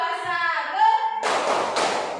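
Hands clapping in a classroom as children do a counted clap routine: a burst of sharp claps after a stretch of young voices chanting, the claps loud and close.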